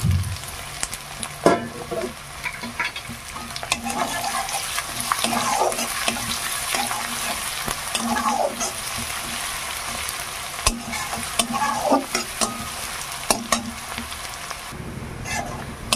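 Chopped onions with crushed garlic frying in a pan, a steady close sizzle broken by scraping stirs every few seconds, with no talk.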